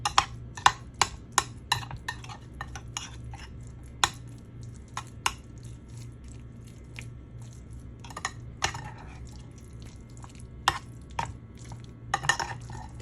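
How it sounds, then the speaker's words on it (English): Cheese being mixed into a spinach dip, heard as a run of close, sharp scraping and tapping clicks from a utensil against a bowl, irregular and bunched, over a low steady background hum. "So I'm gonna mix the cheese with it."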